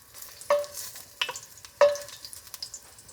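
Garlic toasting in olive oil gives a quiet sizzle, broken by a few distinct clanks and scrapes of a utensil stirring the pan at roughly one-second intervals.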